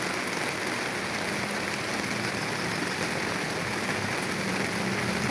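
Heavy rain pours down steadily, a dense, loud, unbroken hiss that fills the whole stretch with no pauses and no voices.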